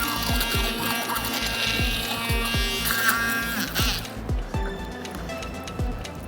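A blender purees creamy mushroom soup with chicken stock, its steady motor whirring close and loud while regular thudding knocks repeat about every half second, the pitch shifting as the blend thickens.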